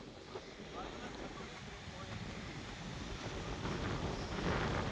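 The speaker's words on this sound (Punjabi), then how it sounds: "ਹਵਾ ਬਹੁਤ ਜ਼ਿਆਦਾ ਚੱਲਦੀ ਹੈ" Strong wind blows across open farm fields near a canal, buffeting the microphone with a continuous rough rumble that builds slightly toward the end.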